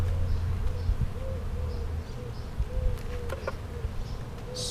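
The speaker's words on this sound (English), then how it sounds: "that's a hard-working bunch of bees." Many honeybees buzz steadily up close at a hive, a dense continuous drone with individual bees flitting past, with no talking.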